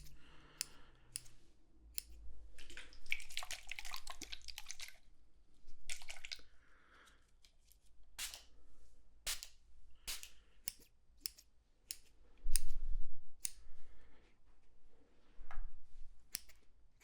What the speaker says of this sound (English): The little fine tuning scissors.